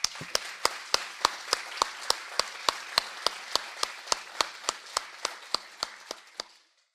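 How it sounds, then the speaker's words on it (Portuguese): A single person claps at a Brazilian environmental-education meeting, about twenty sharp, evenly spaced claps in a steady rhythm that thin out and stop near the end. "Uma salva de palmas."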